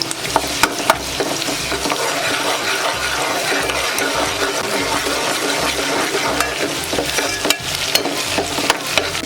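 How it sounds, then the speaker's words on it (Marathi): Chopped onion with garlic paste and curry leaves fries in oil in a pot for a spicy village-style crab curry, a loud continuous sizzle broken by rhythmic stirring scrapes and clinks, close and steady with no talk. "आता कांदा भाजत आला आहे."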